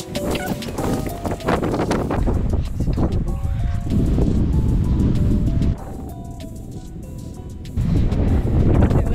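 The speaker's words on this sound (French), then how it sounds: "Magnifique, mais il y a énormément de vent." Strong wind on a climb in Malta buffets the microphone with a loud, steady roar that briefly eases before gusting hard again.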